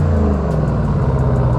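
A Dodge Challenger Hellcat Redeye with loud exhaust idles and revs up close, a deep throbbing rumble with a burbling, pulsing rhythm holding steady, with no talk.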